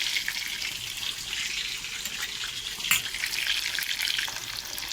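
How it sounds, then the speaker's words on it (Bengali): Fish frying in hot oil, a continuous bright hiss and sizzle at close range, steady for the whole stretch with one brief louder crackle, and no talking. "মাছটা এগুলো ভাজতে দেওয়া হয়েছে"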